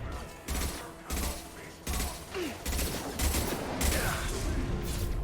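Repeated heavy blasts and gunfire from a Mass Effect 2 firefight, with rocket launchers firing in bursts roughly every second, loud and close, over a steady rumble of combat.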